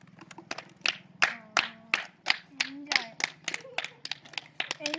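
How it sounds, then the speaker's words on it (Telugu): A small group claps for the winner of a game in quick, uneven bursts of sharp hand claps, close by, with voices talking and a low hum underneath. "క్లాప్స్ కొట్టుండి ఇక కన్నయ్యకు"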